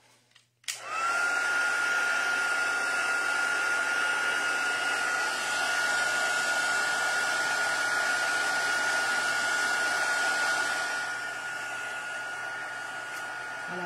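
A heat tool blows hot air over embossing powder on a card, a loud, continuous fan whine that starts with a click and runs steadily for over ten seconds before dropping slightly.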